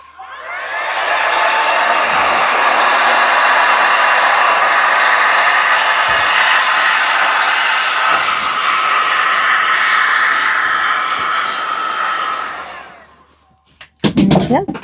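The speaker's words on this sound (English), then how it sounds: "Let's get our heat gun. Turn your volume down if you don't like the noise" A heat gun blasts hot air over resin in a trinket dish mold, a loud steady whooshing roar that runs continuously for most of the stretch before cutting off, followed by brief handling clatter.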